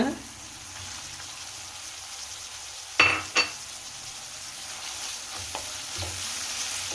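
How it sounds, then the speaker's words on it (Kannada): Chopped onions hit a hot pan while making veg hakka noodles, a steady close sizzle of frying with two sharp clatters of stirring partway through and a few softer scrapes later, no voices. "ನಂತರ ನಾನಿಲ್ಲಿ ಕಟ್ ಮಾಡಿ ಇಟ್ಕೊಂಡಿದ್ನಲ್ಲ ಆನಿಯನ್ನ ಹಾಕೊಳ್ತಾ ಇದ್ದೀನಿ ಈಗ"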